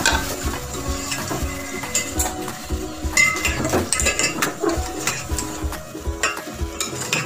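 Goat meat and tomatoes for biryani fry in a pot with a soft sizzle, punctuated by repeated clinks and scrapes of a metal spoon stirring against the pan, close and fairly quiet.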